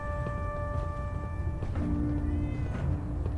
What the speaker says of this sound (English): Meow, kitty. I heard the kitty.